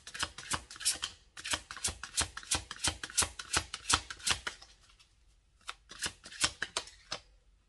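Tarot-style cards are riffled and shuffled by hand for a reading in quick papery bursts, close and crisp, with a short pause before a few more flicks as cards are drawn; no talk.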